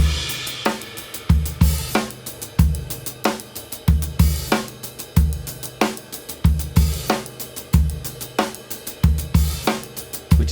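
A drum kit plays a steady groove with busy hi-hat embellishments carrying most of the notes, punchy kick drum and a solid snare backbeat, close and loud with a regular rhythmic pulse throughout.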